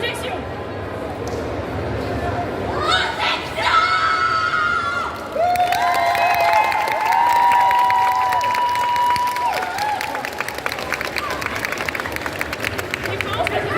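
A convention-panel audience at an Ace Attorney event at Japan Expo erupts in loud cheering, whoops and sustained applause for a crowd vote, with shouting voices mixed into the dense, continuous roar.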